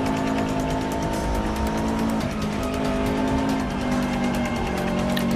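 Subaru race car in the Forza 6 racing game, its engine droning loudly and steadily throughout with tires squealing and skidding on top, no one speaking.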